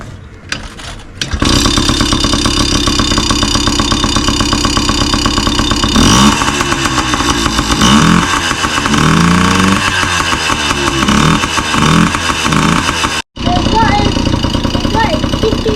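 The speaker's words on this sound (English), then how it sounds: "First thing you want to do is warm the bike up so the oil warms up." A Yamaha PW50 youth motorcycle's small engine starts and runs steadily while warming up before an oil change, loud and close with buzzy revs, while a voice talks over it.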